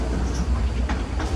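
The Denver Airport terminal train runs between the main terminal and the C gates, with a steady loud rumble and faint rail clatter, heard from inside the train.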